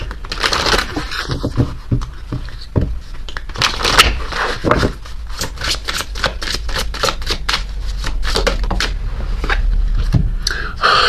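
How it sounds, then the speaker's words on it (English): Oracle cards being shuffled by hand, giving a continuous run of crisp papery riffles and flicks with a steady rhythm, close and fairly loud, with no talking. "let's get one of these cards here, these oracle messages for the masculine."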